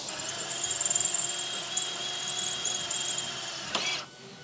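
A power drill bores a hole in a Cadillac CTS-V, a steady high-pitched whine running close and loud for nearly four seconds before it cuts off abruptly.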